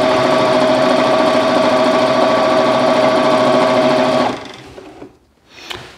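An Elna 450 sewing machine runs loud and steady through cushion fabric for about four seconds, then stops abruptly, leaving faint handling noise.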